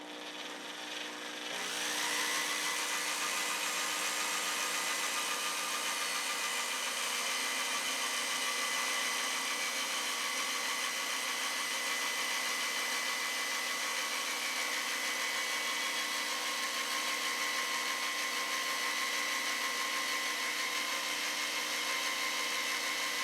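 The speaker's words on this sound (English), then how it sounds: "So now I'm going to switch to my bigger bit" A power drill with a larger bit widens a pilot hole in wood for a pool table clock, starting after a brief quiet moment and then running as a steady, loud, unbroken whine for about twenty seconds, with no talking.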